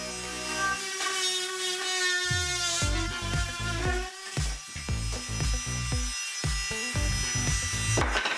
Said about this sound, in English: I'll use my reciprocating saw the rest of the way to cut it.